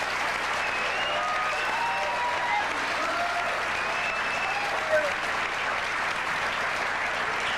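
A talk-show studio audience applauds in a sustained, even roar of clapping, with faint voices and cheers threaded through it.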